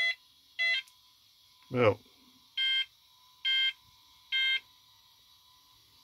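A vintage computer beeper sounds four short, evenly spaced electronic beeps in a quiet room, with a single brief spoken word between the first and second.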